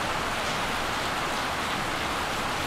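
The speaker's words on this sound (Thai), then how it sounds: "เสียงฝนกระหน่ำมากแล้วจะไลฟ์ยังไงทีนี้" Heavy rain pours down in a dense, steady, loud hiss with no breaks and no voices.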